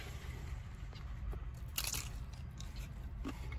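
A bacon-topped food truck dish with cilantro, green onions and jalapenos being bitten and chewed up close, a few faint, crisp crunches over a quiet background.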